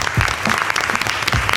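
An audience breaks into a dense, loud burst of applause, many hands clapping close and steady with a few faint crowd voices underneath.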